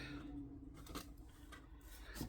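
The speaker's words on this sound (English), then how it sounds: "I'm going to go ahead and get the rest of this out with my scissors" Scissors snip through torn paper on a handmade Christmas junk journal album, giving a few quiet, brief cutting sounds.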